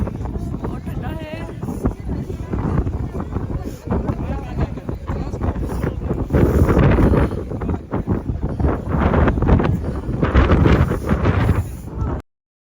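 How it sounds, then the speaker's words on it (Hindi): Strong, cold wind buffets the microphone at a high mountain pass, a loud continuous roar with gusting surges that rise and fall throughout before cutting off abruptly. "तो सुना आपने हवाओं की आवाज़?"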